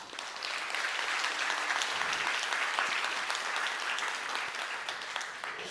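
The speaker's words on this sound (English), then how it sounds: "Please give a warm round of applause to Stephanie ECKLES." Conference audience applause welcoming a speaker to the stage at a web design event, a sustained, even wash of many hands clapping, heard from a middle distance and fairly soft.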